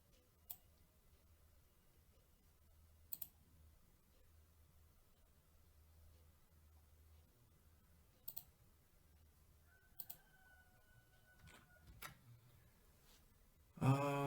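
Computer mouse clicking while building a choropleth map in QGIS, a handful of sharp, isolated clicks spaced several seconds apart over a faint hum, some in quick pairs, close and quiet.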